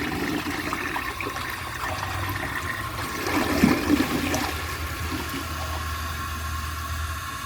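A 1952 Homart toilet flushes a washcloth and a grocery bag, with a steady rush of water swelling to a louder gurgling surge midway, then settling back into continuous refill flow and a low hum.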